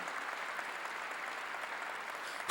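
A church congregation at a Korean sermon applauds, a steady wash of clapping that holds evenly before a louder, sharper burst right at the end.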